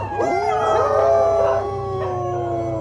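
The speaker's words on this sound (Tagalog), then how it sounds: "sabay-sabay mag-alulong ang mga aso sa labas" Several dogs howl together outside a house at night, long wavering overlapping howls rising and falling, fairly loud and close, with no talk.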